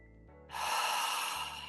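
A deep inhale during guided relaxation, a single long airy breath drawn in close to the microphone, rising and then easing off, with a quiet musical drone underneath.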